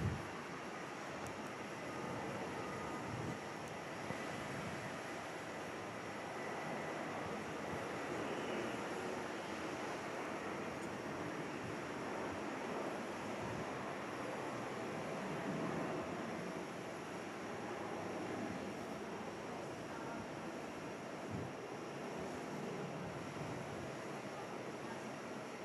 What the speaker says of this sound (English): we've got the Connor 737 split scimitar aircraft on the roll